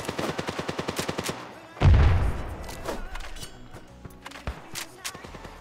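Gunfire in the mobile shooter Standoff 2 during a bomb-defusal round, a quick run of evenly spaced shots followed by a heavy boom and scattered later shots, mixed with game effects.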